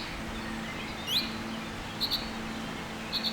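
Small birds in a Swiss forest on a winter morning give a few faint, high chirps and a rising whistle over a soft, quiet background hush, with the calls coming in scattered short bursts.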